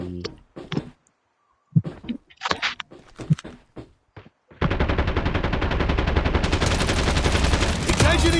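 Rapid automatic gunfire in a first-person shooter video game, starting after a few separate shots and some talk, then turning into a loud, continuous machine-gun burst that lasts to the end.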